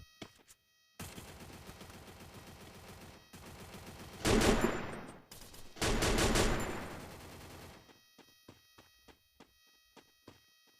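Gunfire in the mobile battle game Free Fire: a sustained automatic burst, then two louder rapid volleys, followed by scattered single shots tapering off, heard close with no talk.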